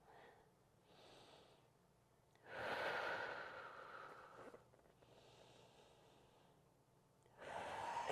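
Slow, audible breaths during prenatal yoga cat pose, a long soft exhale rising and fading in a quiet room, then a gentler breath and another strong exhale starting, close to the microphone.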